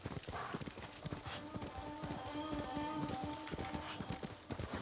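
Horse hooves clip-clop in a steady, galloping rhythm through the Ghost of Tsushima game world, loud and continuous over ambient game sound, with an occasional whinny.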